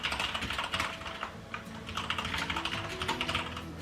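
Rapid typing on a computer keyboard, a dense, continuous clatter of close keystrokes with no voices.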